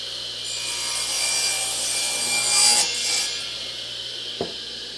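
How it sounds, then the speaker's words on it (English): A Craftsman radial arm saw rasps steadily through wood for a few seconds, a bright, hissing cut with no voices. "I like the sound of that saw."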